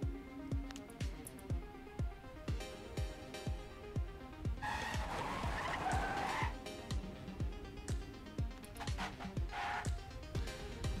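Several race cars in a Japanese GP racing video game, engines buzzing and whining in rapid repeated passes, with brief skidding tire squeals rising over the steady motor drone.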